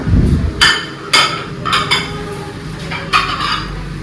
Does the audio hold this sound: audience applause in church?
no